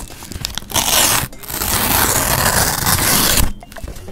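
A paper envelope is torn open close to the mic, giving loud ripping and crinkling in several bursts with short pauses between them.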